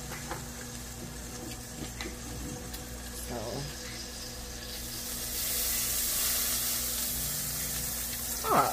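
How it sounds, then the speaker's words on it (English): Water runs as a cooking pot is rinsed and wiped out with a rag in a home kitchen. The faint flow swells into a steadier rush partway through. "Rinse this out. Wash it out right quick. Wash it with the rag and stuff right quick."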